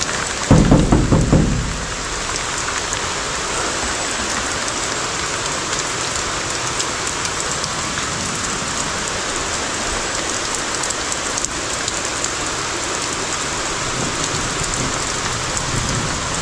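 Heavy rain pours steadily, a dense continuous hiss of drops beating on surfaces, with a brief louder burst of spattering at the very start.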